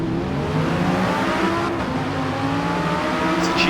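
An Audi R8 V10 in Forza Motorsport holds a steady, droning engine note at sustained revs, loud and continuous throughout with no voices over it.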